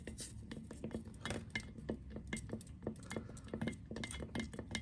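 A stick stirs West System epoxy resin in a mixing container, giving quiet, rhythmic scrapes and light clinks that repeat steadily.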